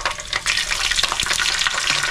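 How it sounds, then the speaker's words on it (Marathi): A spoonful of ginger-garlic paste sizzles with previously fried onion in a kadai while a methi paneer masala is cooked, giving a steady, dense, close frying hiss with faint crackles and stirring scrapes throughout, with no talking. "आता त्याच्यामध्ये आलं लसूणची पेस्ट टाकते 1 चमचा."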